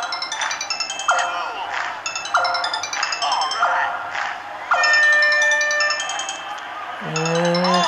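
A phone ringtone plays several rising tonal rings in a row, loud and close, over game sounds and a talking voice, ending on a lower ringing tone.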